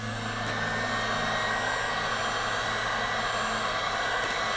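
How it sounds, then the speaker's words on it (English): Heat gun blowing hot air over an acrylic pour painting in open pumpkin-shaped cups, a steady close broadband hiss and whir that holds evenly throughout with no voices. "now I'm going to take my heat gun"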